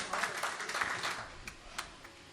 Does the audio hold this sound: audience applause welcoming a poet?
yes